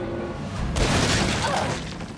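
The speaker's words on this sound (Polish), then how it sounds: "Zapomniałem, że on wybucha, no jasna cholera." A sudden loud explosion of an enemy in Resident Evil 7 bursts in, followed by a rumbling, crackling roar that fades gradually, typical of a game blast effect.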